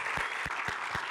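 An audience applauds at a formal event in Saudi Arabia, dense steady clapping heard close and loud in a brief burst with a few stronger claps standing out.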